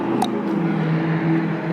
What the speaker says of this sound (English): Noisy cars.